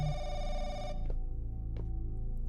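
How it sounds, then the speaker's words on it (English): A telephone in a Chinese horror video game rings with a steady electronic bell tone that cuts off abruptly after about a second, followed by faint room noise and soft clicks. "The phone again."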